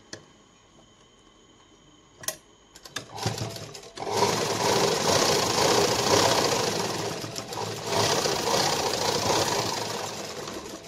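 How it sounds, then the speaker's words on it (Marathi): A sewing machine stitches a lined katori blouse, starting with a few isolated clicks and thumps before settling into a fast, continuous mechanical whir that runs steadily and close up for several seconds. "आता आपण इथून शिलाई मारायला सुरुवात करू."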